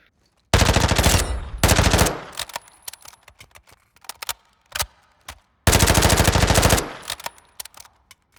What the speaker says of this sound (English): The Vassive 9K, aka the Vityaz submachine gun